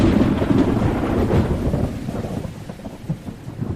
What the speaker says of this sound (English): The rain ran down my windshield, leaving little dirty veins of water in its wake.